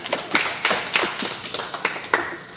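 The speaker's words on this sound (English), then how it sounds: "Give her a round of applause." A classroom of children clapping in applause for a classmate during a math lesson on fractions, a brief rhythmic patter of claps with distinct beats, moderately close.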